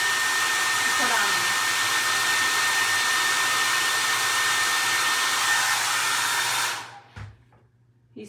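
A hair dryer runs steadily at close range, drying paint on a vintage snowman craft, with a loud continuous airy whoosh that cuts off abruptly near the end, followed by brief handling noises.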